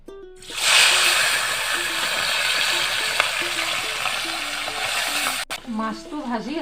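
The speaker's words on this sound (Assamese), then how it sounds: "মাছটো ভাজি আছোঁ" Fish sizzling and frying in a pan with oil, a dense steady crackle that starts abruptly and holds loud and close, with a brief clatter near the end and a voice briefly heard over it.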